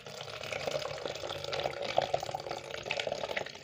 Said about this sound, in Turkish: Malzemelerin üzerine geçecek kadar içme suyu ekliyoruz.